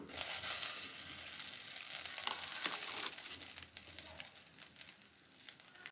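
Butter sizzles and crackles steadily in a hot pan while making white sauce pasta, a close, continuous frying hiss with occasional sharper pops.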